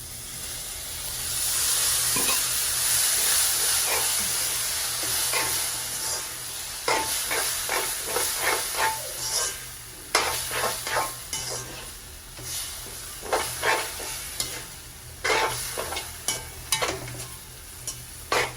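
Peas sizzle and hiss in a hot pan, with a burst of steam early on and then repeated scraping stirs at an uneven rhythm.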